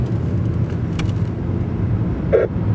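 Cars idling and creeping in a Beijing traffic jam, heard as a steady low engine rumble close by, with a faint brief hiss and a short higher tone near the end.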